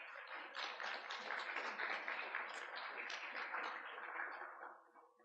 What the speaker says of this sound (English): Put a round of applause.